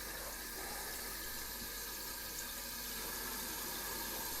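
Running water steadily filling a photographic developing dish, a continuous broadband rush and hiss at close range with no voices.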